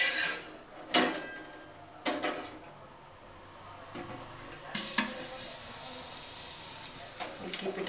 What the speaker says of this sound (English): Now the tawa is hot. I cut the size a little. One side started rising, so I just flip it.